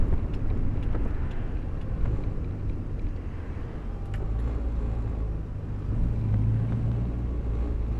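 A 1962 Morris Minor drives along with a steady low engine rumble and road noise, some wind buffeting on the microphone, and no talk throughout.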